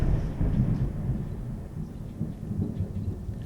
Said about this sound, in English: I know y'all heard that thunder.